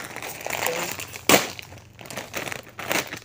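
A crinkly plastic snack packet is being opened, with rustling and crinkling plus one sharp tearing crackle in the middle, close and moderately loud.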